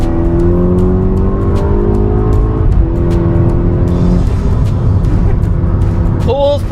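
A turbocharged Mk6 VW GTI Stage 2 accelerates hard through the gears, its engine note rising in long sweeps with a brief shift dip, loud from inside the car, with a person talking at the end.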